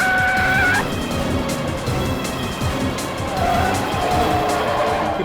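A bus swerving from side to side with tires squealing, a loud sustained screech over steady engine roar and rumble throughout, with brief skid tones at the start and near the end.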